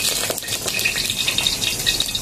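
Oil sizzles and crackles steadily in a hot pan set outdoors in bright sun, as cooking of poi saag (Malabar spinach) begins; a dense, continuous frying hiss stays close and fairly loud throughout, with no voices.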